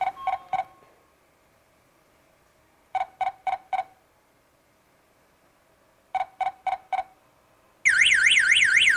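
A Tuya smart burglar alarm system counts down its alarm delay with three quick bursts of four sharp electronic beeps, separated by pauses, then breaks into a loud, continuous warbling siren.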